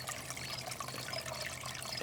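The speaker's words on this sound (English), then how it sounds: "we built this little water trough that a pump circulates the water through this" Water trickles steadily through a small pump-circulated trough in a Canadian backyard tropical garden, a soft continuous splashing and burbling with no talk.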